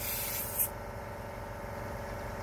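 A paint spray gun hisses steadily as it lays down high build primer on a car, a constant airy spray with a brief louder puff near the start, quiet and with no talk.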